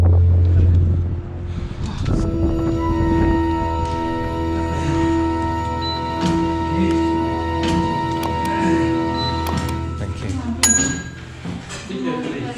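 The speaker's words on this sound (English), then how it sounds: "The blustery wind gave an eerie feel as we excitedly made our way up into the castle." Strong, blustery wind roars steadily against the microphone outside Bran Castle in Romania, loud and continuous, with a low droning hum running underneath throughout.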